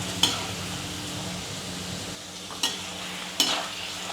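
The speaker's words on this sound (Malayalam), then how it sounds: "ഇപ്പോൾ എണ്ണ ഒഴിച്ച് നല്ലതായിട്ട് തിളച്ച് കിടക്കുകയാണ്" A snack fries in hot, bubbling oil with a steady close sizzle, broken by three sharp metallic clinks of a spoon or strainer against the pan.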